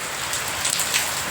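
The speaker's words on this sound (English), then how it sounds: "So right now the laborers are working, and it is raining." Steady rain falls at an outdoor work site where laborers are working, a dense continuous patter of drops on surfaces with no voices.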